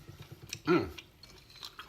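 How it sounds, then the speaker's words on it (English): Someone chews grilled Peruvian chicken with crunchy seeds, and one loud close crunching bite stands out amid quieter mouth sounds. "the semillas give it a nice little crunch"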